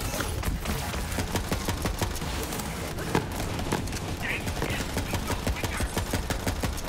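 Rapid gunfire in Borderlands 3: dense, sustained automatic shots cracking in a steady stream throughout, loud and close, with brief voices under the shooting.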